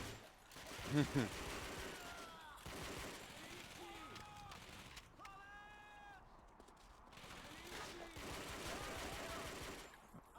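Gunfire in the World War II shooter Call of Duty: Finest Hour, bursts of shots and distant battle noise mixed with someone talking over the game sound.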